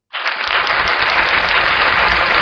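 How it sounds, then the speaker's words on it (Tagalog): An audience bursts into sudden loud applause, a dense wash of many hands clapping together that holds steady and close for the whole stretch, with no voices heard. "Yan, dapat yan pinapalakpakan."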